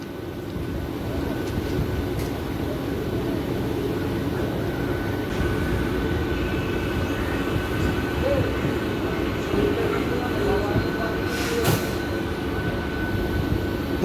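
A Super EMU local train running on the Bardhaman–Howrah chord line, heard as a continuous loud rumble and rattle of the carriages at speed.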